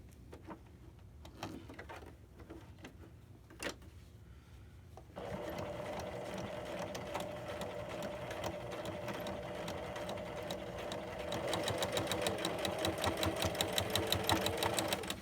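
Sewing machine stitching a waistband on a garment, quiet taps at first, then a steady close-up rapid mechanical whirring and clatter that grows louder and faster near the end.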